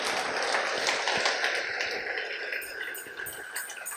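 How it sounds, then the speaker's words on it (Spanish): A church congregation claps and cheers in praise, a dense, loud, continuous wash of applause from a crowd nearby that keeps going for the whole moment. "Den un aplauso al Señor"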